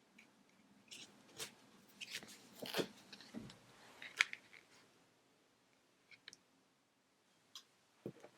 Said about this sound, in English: So now I'm going to cut my image down.